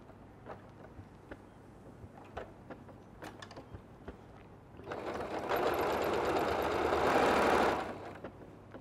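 A sewing machine runs along the top edge of a batik fabric tote bag, a loud steady whirr lasting about three seconds after a stretch of light clicks and handling noise.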